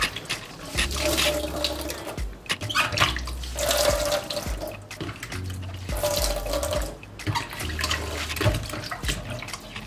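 Beauty blender sponges rinsed under a running sink tap, with steady water splashing and gurgling throughout and brief dips as the sponges are squeezed and moved.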